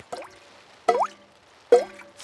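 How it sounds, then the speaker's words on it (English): Rainwater dripping through a leaking school roof, three separate drops falling at a slow, even pace, each a clear wet plip heard close and alone. "It is raining and the school roof is leaking again."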